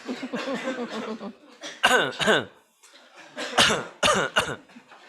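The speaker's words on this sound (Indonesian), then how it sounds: "kemudian coba kita batuk-batukan ya" Several people cough in bursts, some with throaty voiced coughs, overlapping and close by, with short pauses between rounds.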